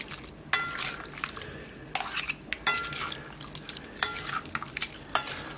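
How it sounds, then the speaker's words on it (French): A spoon mixes potato salad in a bowl after hot broth is poured over the potatoes, giving soft wet scraping strokes and several clinks against the bowl at an uneven pace, close and fairly quiet. "Et maintenant, il n'y a plus qu'à bien mélanger le tout."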